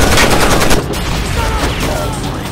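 Loud, dense automatic gunfire in the Rainbow Six Vegas 2 video game, rapid rattling bursts that fill the whole clip, heaviest in the first second then continuing as a sustained roar of shots.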